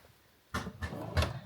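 A closet dresser drawer holding swimsuits slides and knocks softly, three quiet thumps within about a second, close by and alone.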